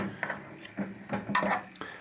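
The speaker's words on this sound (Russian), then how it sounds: "и вот так мы ложкой все это расхэкаем, сейчас похэкаем, перехэкаем." Minced meat being pan-fried for navy-style pasta and stirred with a spoon, giving quiet metallic scrapes and clinks against the pan at irregular intervals, with a faint sizzle beneath.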